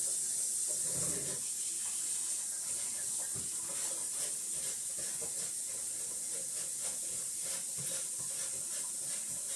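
Very hot water runs from a tap down a sink during soap making, producing a steady, faint hiss and splash with occasional soft knocks underneath.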